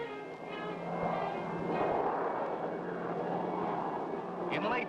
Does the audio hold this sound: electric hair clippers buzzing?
no